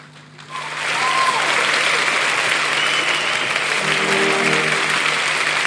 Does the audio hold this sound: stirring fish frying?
no